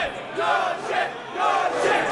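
Crowd at a boxing weigh-in roaring and cheering in two loud surging waves, a dense mass of shouting voices filling a large hall.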